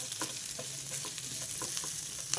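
Onions fry quietly in oil, a soft continuous sizzle with faint crackles and small pops scattered through the short stretch.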